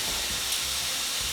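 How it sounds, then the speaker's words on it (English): Steady, loud sizzling hiss of meat cooking in a cast iron pan fills the clip, a continuous crackling fry with no voices. "I like the sound of the sizzling sound of meat cooking."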